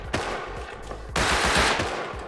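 Rapid automatic gunfire in the Rust video game, a short burst of close, punchy shots followed by another louder, sustained volley.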